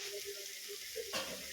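Tomato frying in a pan for Maggi noodles makes a soft, steady sizzle with a brief stir or scrape near the end, quiet and close, with no voices.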